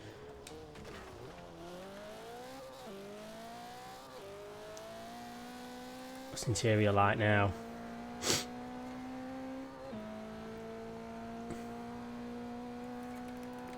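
A Toyota Celica in the racing game Forza Horizon 4 revs and shifts through gears with rising and falling engine tones, then a short burst of tire squeal and a sharp hit. Soft talk sits underneath.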